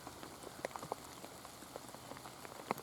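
Steady light rain patters faintly on leaves and ground in a garden, scattered tiny drops ticking irregularly over a quiet background with no voices.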